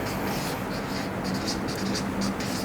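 A pen scratches across paper in short intermittent strokes during a sit-down meeting about buying a first property, quiet and close against a steady background hiss.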